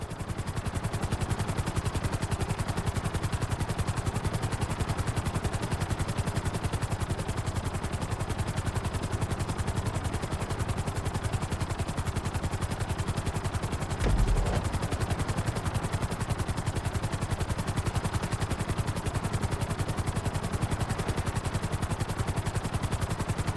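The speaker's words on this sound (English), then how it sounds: "You need to keep the aircraft off the ground." Grand Theft Auto 5 aircraft, a helicopter-like rotor and engine roar, loud and steady throughout, with gunfire-like clatter mixed into the dense, continuous game noise.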